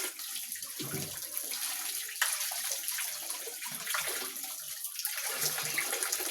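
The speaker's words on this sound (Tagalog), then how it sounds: "Kandusa tong tubig dito. Then wash na." Tap water running and splashing into a basin while washing, a continuous hiss and gurgle with brief surges and pauses, close by and moderately loud, no talking.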